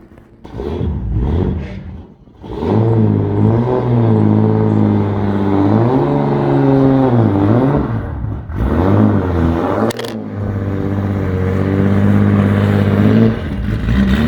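A Toyota Supra drift car's engine revs hard while driving, a loud sustained drone that rises and dips with throttle changes and gear shifts, with a brief drop near the middle before pulling again.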